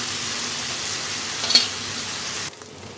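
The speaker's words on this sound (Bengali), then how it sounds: "শুকনো মরিচ কষতে কষতে কড়াই" Dry red chilies fry in a wok with a quiet, even sizzle and one brief clink midway; the frying sound drops off sharply near the end.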